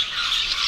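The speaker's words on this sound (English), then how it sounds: "A beautiful parrot." A parrot at a bird park gives a loud, harsh, sustained squawk, close by and unbroken, with no voices over it.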